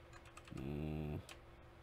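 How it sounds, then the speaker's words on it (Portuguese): A few quick keystrokes are typed on a computer keyboard, followed by an Enter press. A brief, steady, buzzing hum sits between the faint, close clicks. "Deixa eu dar um enter agora."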